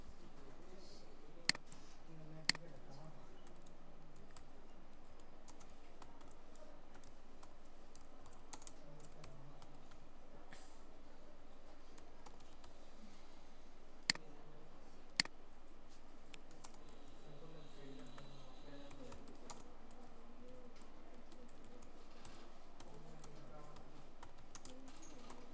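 Soft, scattered keystrokes tap on a computer keyboard in a quiet room, with a few sharper clicks, while a voice speaks quietly off and on.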